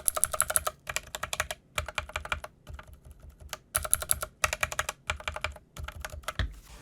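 Bursts of fast typing on a mechanical keyboard fitted with red switches and O-ring dampeners, a GG Ironclad, heard close and alone, with short pauses between clusters of soft, muffled keystrokes.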